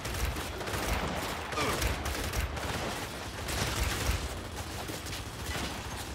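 Rapid gunfire in Gears 5 rattles in dense, overlapping bursts against a noisy battle backdrop, moderately loud and continuous throughout, with no talking.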